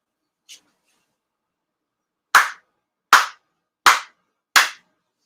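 Four sharp ceremonial hand claps at a Shinto ceremony for Tenchi Kane no Kami, evenly spaced and loud, ringing briefly with a short tail, after a faint soft sound and otherwise quiet surroundings.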